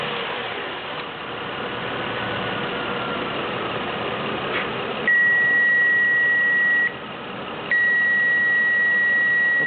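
A Toyota Highlander engine fires up and settles into a steady idle during an alternator test, with a constant mechanical hum and a sustained electronic beep that cuts in and out near the end.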